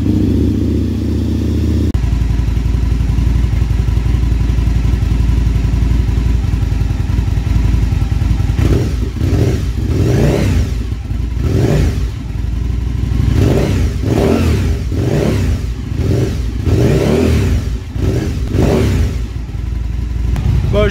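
An Aprilia Tuono 1000 motorcycle with a starting fault, set on its centre stand, cranks and fires, then its engine revs in a series of sharp, regular bursts rising and falling, close and loud.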